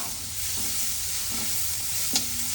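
Onions nearly roasted in a frying pan get stirred, a steady close sizzle running throughout with soft scraping strokes and one brief clink near the end.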